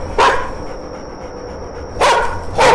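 Dog barking in the horror game The Karaoke: one loud bark near the start, then two more sharp barks close together after a pause, over a steady low ambient hum.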